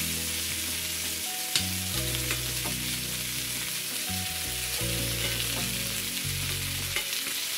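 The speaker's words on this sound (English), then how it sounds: "now I'm gonna add my garlic, chopped garlic" Sliced garlic frying in a pan for a mahi mahi recipe gives a steady, continuous sizzle throughout, with background music playing along underneath.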